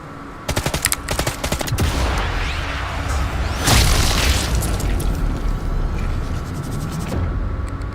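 Submachine gun fire in the Sniper Elite Resistance video game: loud, rapid bursts of automatic shots with booming impacts and explosions, dense and continuous for several seconds.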